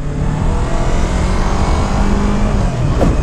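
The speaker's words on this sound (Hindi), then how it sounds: "सो फ्रेंड्स एबे हम स्टार्ट करले यामा आर3 रो राइड।" A Yamaha R3 motorcycle engine drones steadily on the move. The roar is loud and continuous with wind rush and no talk over it.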